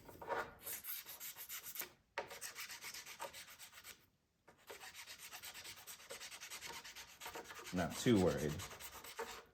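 Sandpaper roughening a cured epoxy surface on a workbench, with steady rasping strokes and brief pauses, a louder burst near the end; a voice briefly speaks.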